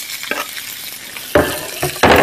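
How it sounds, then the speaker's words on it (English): Seitan browning in a frying pan, a steady close sizzle with louder bursts of frying and stirring as pieces are moved around. "Nothing like the sizzle of something cooking in your pan there"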